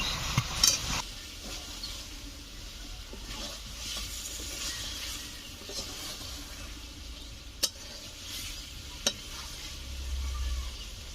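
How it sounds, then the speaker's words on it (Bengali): Chicken pieces with potatoes sautéed in a pan, a low steady sizzle with soft stirring scrapes and a couple of sharp clinks of the spatula against the pan's side, fairly quiet and without speech. "দশ মিনিট মতো ভালো করে কষে নেব।"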